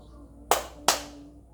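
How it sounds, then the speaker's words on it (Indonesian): Two sharp hand claps ring out about half a second apart, crisp and close, in an otherwise quiet room. "anak-anak bisa tepuk tangan sebanyak 2 kali seperti ini"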